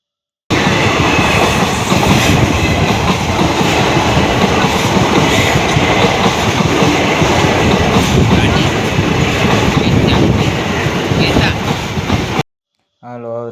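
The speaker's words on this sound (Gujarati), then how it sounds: "આવી ગઈ ઇલેક્ટ્રિક ટ્રેન છે મહુવા બાજુથી ટ્રેન આવે છે" An electric train coming from the Mahuva side passes a level crossing with a loud, continuous rumble and rhythmic wheel clatter for about twelve seconds before cutting off abruptly.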